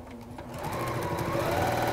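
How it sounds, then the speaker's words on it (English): A sewing machine stitches down the side of a quilt binding, giving a steady, close mechanical whirr with a fast regular needle rhythm that builds in the first half second and then runs on evenly. "we just complete the sewing down that side"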